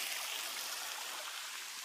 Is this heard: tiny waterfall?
yes